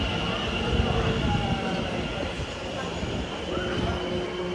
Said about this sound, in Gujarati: ચલો, અમારી ટ્રેન તો આવી ગઈ.